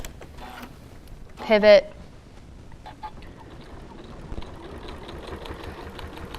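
A sewing machine stitches slowly to the edge of a scrappy quilted potholder, giving a soft, steady, low whir after a brief spoken word.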